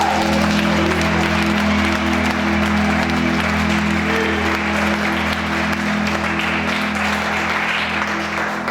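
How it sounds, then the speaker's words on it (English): Steady, loud applause from a church congregation fills the whole stretch, with an organ-like hum underneath. "Somebody clap hands for Jesus."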